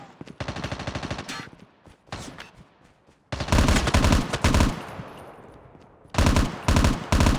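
Rapid bursts of automatic gunfire in a Call of Duty Mobile battle royale match, loud and close, with several separate volleys broken by short gaps.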